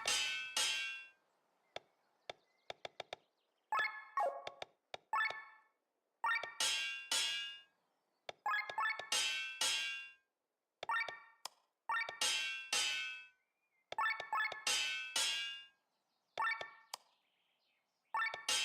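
An anvil upgrade in the video game Chained Echoes rings out as a string of bright metallic clangs and chimes in bursts separated by silence, crisp and close.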